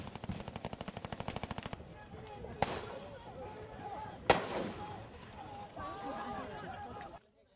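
Pyrotechnic explosions and rapid bursts of blank gunfire ring out on a film set staging a river-crossing battle scene, a fast rattling volley first, then two sharp blasts with trailing echoes and scattered crackles.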